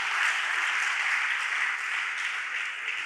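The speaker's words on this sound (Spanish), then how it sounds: "Un aplauso para Josué, que sí sabe escribir." Audience applause at a church sermon, a dense continuous clapping from a crowd, even and fairly loud throughout, with no talking over it.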